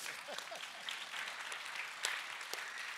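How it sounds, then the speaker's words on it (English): A church congregation at the Bay Church claps softly and steadily for a few seconds, the applause faint and somewhat distant. "go ahead, you can applause."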